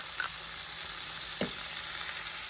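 Chopped onion and tomato frying in a pan, a steady close sizzle and crackle with a couple of brief stirring scrapes, no voices.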